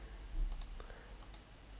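Two pairs of sharp computer mouse clicks, each a quick double tap, sound close and fairly faint against a quiet background.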